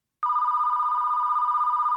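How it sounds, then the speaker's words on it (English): A telephone rings continuously at a reception desk in an office, a steady electronic bell tone starting abruptly and holding loud and close without pause. "The phone at reception started ringing."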